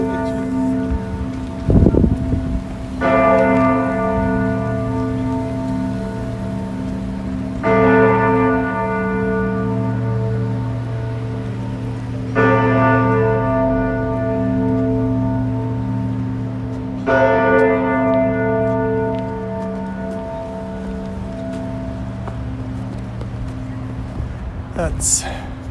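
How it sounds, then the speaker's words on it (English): Large church bells ring near City Hall in downtown Toronto on a Friday night, with several loud, resonant strikes every few seconds, each one swelling and slowly decaying over steady street and traffic noise. "cool bells"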